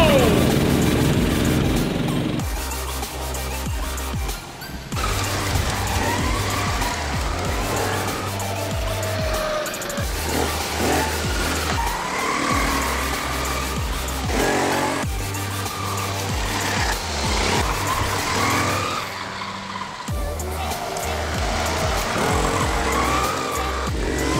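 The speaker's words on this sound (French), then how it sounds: "Une course de karting." Go-karts race around a track, engines revving and whining close by with repeated tire squeals and skids, a dense continuous roar over about twenty-four seconds with occasional voices mixed in.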